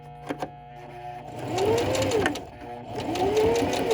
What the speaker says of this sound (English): now I'm going to do the tacking again, the back tacking, just here